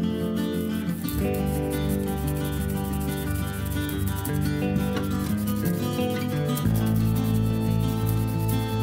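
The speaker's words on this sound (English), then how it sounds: "Rubbing along the charcoal lines, holding this really still." Charcoal lines on a paper tracing are rubbed and burnished by hand to transfer a feather design onto a bag, giving a close, steady scratchy rubbing that runs continuously throughout, shifting slightly in tone with the strokes.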